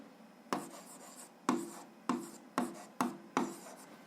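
A pen writes down an answer in six short separate strokes, each a crisp scratch that fades quickly, heard close up in a quiet room with no talking.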